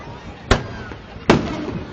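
Two sharp fireworks bursts crack about a second apart during Fourth of July celebrations in West Allis, Wisconsin, each loud bang trailing into a rumbling decay over quiet background noise.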